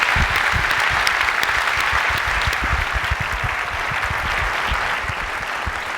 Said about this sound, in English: I'd like to give him a round of applause.